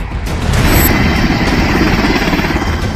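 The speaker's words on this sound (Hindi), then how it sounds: "तालिबान के आतंकवादी अमेरिका के मशहूर ब्लैक हॉक हेलीकॉप्टर को उड़ाने की कोशिश कर रहे हैं" An American Black Hawk helicopter flies in Afghanistan, heard as a loud, steady broadband rotor and engine roar that fills the whole stretch without a break.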